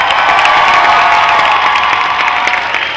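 A large crowd at the Princess Kay dairy coronation evening at the Minnesota State Fair roars with sustained cheering and applause, loud, dense and continuous throughout.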